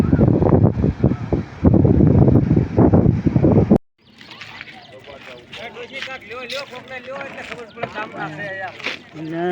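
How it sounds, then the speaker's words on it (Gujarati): Loud, rushing roar of sea waves and wind at the shore for a few seconds, then it cuts abruptly to a voice singing or talking. "દરિયાનો ઘૂઘવાટા કરતો અવાજ."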